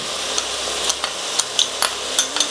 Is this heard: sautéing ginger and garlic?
yes